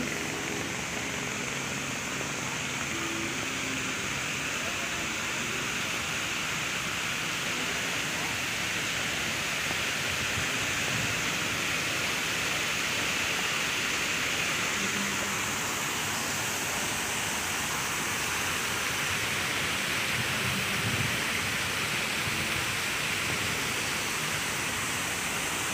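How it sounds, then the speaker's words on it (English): A waterfall roars as a steady, dense wash of falling water, loud and continuous throughout, with faint voices now and then beneath the rush. "Ito na tayo sa waterfall."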